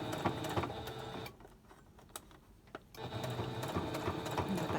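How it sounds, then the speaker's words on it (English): Sewing machine back stitching pleats on a fabric mask, a close rhythmic whirring run, a brief slower stretch with soft clicks, then steady stitching resumes, no talking. "back stitch here"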